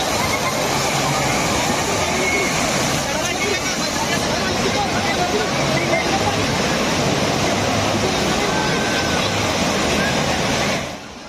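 A shoal of sardines splashes and churns in shallow water by the shore at a boat jetty in Kochi, making a dense continuous sloshing roar with voices mixed in the background.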